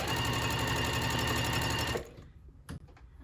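A sewing machine chain piecing small fabric pieces for a scrappy mug rug, running in a steady rapid whir for two seconds and then stopping abruptly, followed by a faint click and handling noise.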